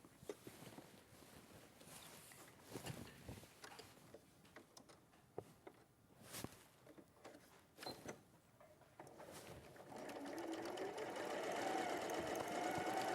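A sewing machine stitches a quilt seam. Quiet ticks and clicks come first, then the motor runs in a steady, close, whirring stitch toward the end.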